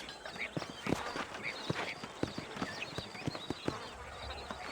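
Horses clip-clop along a dusty trail in the Red Dead Redemption game, uneven hoof strikes at a walking pace, fairly close but quiet, over soft ambient wind and background noise.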